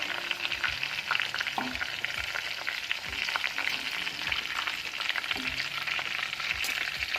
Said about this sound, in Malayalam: അപ്പോൾ നമ്മുടെ കാട 2 ഭാഗം നല്ല ഫ്രൈ ആയി വന്നിട്ടുണ്ട്